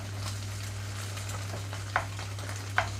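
Egg fried rice ingredients frying on a high flame: a steady close sizzle over a constant low hum, with a few sharp clinks or scrapes of stirring near the end.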